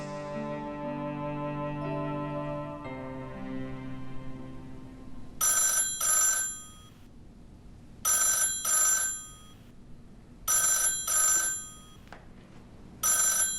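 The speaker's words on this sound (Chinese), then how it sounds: "怎么不接电话？" A telephone rings in four loud, evenly spaced double bursts, each a bright electronic trill, following soft fading music and with no voices.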